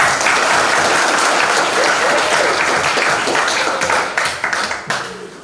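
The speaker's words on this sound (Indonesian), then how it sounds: "Tepuk tangan." Lecture-hall audience applauding after a student's question about compilers in a computer organization class, dense steady clapping that stays loud for about four seconds, then thins into scattered claps as it dies away.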